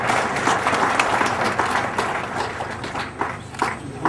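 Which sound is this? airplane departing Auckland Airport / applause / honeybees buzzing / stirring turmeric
applause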